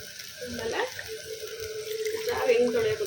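Tap water runs steadily while a mixer jar is rinsed at a kitchen sink, a continuous splashing rush under a voice talking nearby.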